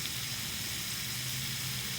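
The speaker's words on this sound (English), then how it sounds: "We'll let the sizzle tell the story" Sausages sizzle steadily over a Dakota fire hole, a continuous close hiss with a low crackling undertone and no talking.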